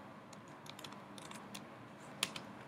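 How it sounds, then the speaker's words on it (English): Light keystrokes on a Mac computer keyboard while a terminal command is entered: a quick, uneven run of soft clicks over faint room hiss, with one sharper tap near the end and no voices. "Let's type in defaults write com.apple screen capture"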